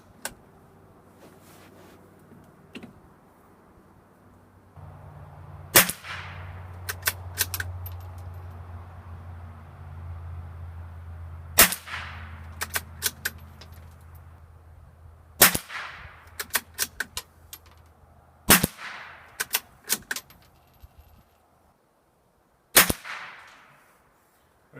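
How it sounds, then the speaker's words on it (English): Rimfire rifle firing Winchester ammunition, roughly ten sharp, distinct shots spaced a few seconds apart, some louder unsuppressed cracks and some quieter suppressed pops, outdoors, with low rumble between shots. "We'll do 5 rounds without the suppressor, and then we'll do 5 rounds with the suppressor on"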